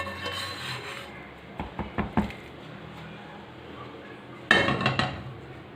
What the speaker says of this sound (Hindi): अब मसाले को आलू में शामिल करके अच्छी तरह से मिक्स कर लेंगे